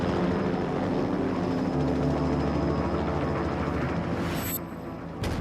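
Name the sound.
Indian LCH attack helicopter flying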